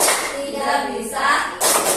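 A classroom group claps a rapid, steady rhythm of hand claps throughout, loud and close, with no voices over it.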